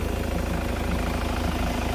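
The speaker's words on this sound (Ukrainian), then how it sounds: "Ось так мотор працює зараз" A Jaguar X-Type 2.0D common-rail diesel with Delphi injectors idles steadily after injector repair, giving a continuous, even engine drone heard up close with no talk over it.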